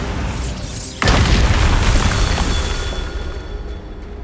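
A Bombarda blasting spell explodes in Hogwarts Legacy: one sudden loud boom strikes about a second in, then a rumbling blast tail slowly fades.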